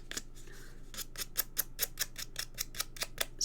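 Scissors scrape along the edges of a plain paper card in quick, close, rhythmic strokes, about a dozen crisp rasps in a quiet room.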